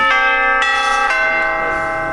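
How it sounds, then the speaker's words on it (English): A stock market opening bell rings in bright, steady repeated strokes with a sustained metallic ring, loud and alone throughout. "Okay, there goes the bell"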